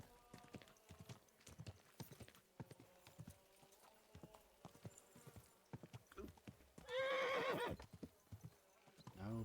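Horse hooves clip-clop in a steady walking rhythm in the medieval game Kingdom Come: Deliverance II, joined by a loud whinny partway through, with a player's voice talking over the sound.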